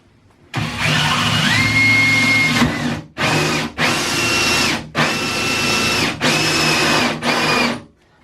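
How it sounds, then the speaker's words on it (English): A power drill whines loudly in several bursts while drilling a hole into a bath, starting and stopping in a repeated rhythm with short pauses between runs, close up. "I'm just going to start drilling straight away."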